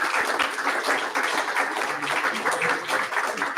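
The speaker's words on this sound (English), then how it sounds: "Give it a round of applause." A small community congregation applauds after a piano performance of the Moonlight Sonata, a close, continuous patter of many hands clapping at a steady level throughout.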